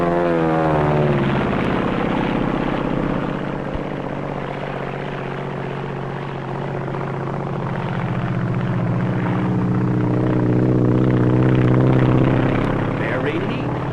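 A propeller airplane dives low back over an airport, its engine a loud, steady droning roar that swells and fades across the pass, with someone narrating throughout.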